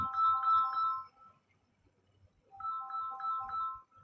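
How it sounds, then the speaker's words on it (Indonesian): A phone ringtone plays a repeating melodic pattern, two bursts separated by a short pause, fairly clear and close with a little low background rumble and no talking. "udah telepon nih, gak usah diangkat ya, jauh soalnya."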